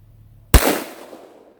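A single 7mm-08 Remington rifle shot fires outdoors in freezing weather, one sharp loud crack breaking a near-silence and then decaying into a brief rumbling echo.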